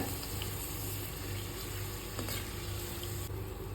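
Black pepper simmering on low heat in homemade hair oil with leaves, a soft steady bubbling sizzle, quiet and continuous with no voices.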